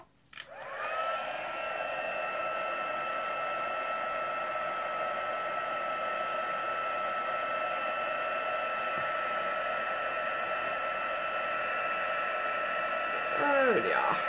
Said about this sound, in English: Oh, I did say no more heat embossing, but